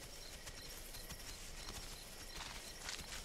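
Heavy dinosaur footsteps in the survival game The Isle, a steady series of dull thudding stomps over constant broadband ambient noise at night, moderately close and continuing throughout.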